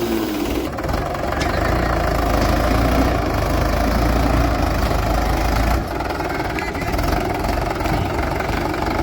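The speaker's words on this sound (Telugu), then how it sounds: "మామ అయితే ట్రాక్టర్ స్టార్ట్ చేస్తాడు" A loud, close tractor engine idles and chugs steadily throughout with a low, rattling rumble.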